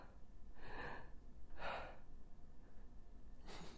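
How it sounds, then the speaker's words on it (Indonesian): A husband breathes heavily after lifting his wife onto the bed, with three deep, breathy gasps and exhales spaced about a second apart, close and soft over a quiet hiss. "Bentar aku nafas dulu sayang."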